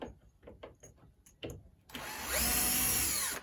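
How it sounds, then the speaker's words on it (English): A power driver whirs steadily for about a second and a half while backing screws out of an Arcade1Up arcade cabinet, close and loud, after a few sparse knocks and handling clicks. "I'm going to just pull out these screws"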